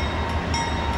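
BNSF and Norfolk Southern freight locomotives and cars roll past on a Montana line, a steady, dense rumble of wheels and engines holding close and loud throughout without a break.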